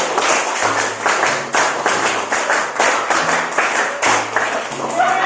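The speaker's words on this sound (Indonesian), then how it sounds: "tepuk 1, tepuk 2, tepuk 3, tepuk 4, tepuk 5. Tepuk 5 kali." A class of students claps in unison five times, sharp, crisp, evenly spaced group claps close by, repeated in quick rhythmic sets with a faint voice underneath.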